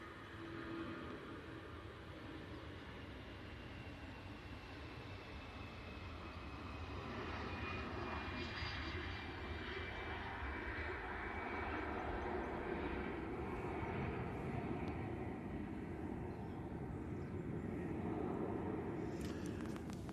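An arriving airliner approaching Manchester Airport gives a continuous engine rumble that builds gradually and stays steady from start to finish, with a faint higher whine running over it.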